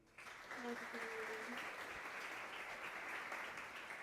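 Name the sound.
audience applause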